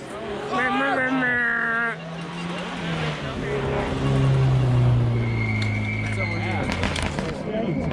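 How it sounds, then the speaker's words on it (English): A rally car at a snow rally stage in Atlanta, Michigan approaches and passes, its engine note rising and falling as it goes by, with spectators talking nearby. "Car coming"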